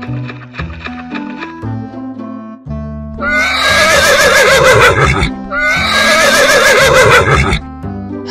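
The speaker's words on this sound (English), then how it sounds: "Horse." A horse on a farm gives two loud, drawn-out neighs in a row, each a shrill, quavering whinny, set over a bouncy melodic backing tune that plays throughout.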